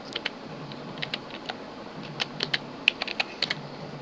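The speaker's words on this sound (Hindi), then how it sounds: "तो हम टाइप करेंगे स्टाइल शीट" Light keystrokes on a computer keyboard while a CSS stylesheet link is typed out, scattered clicks in short uneven bursts, close and fairly quiet, with no speech.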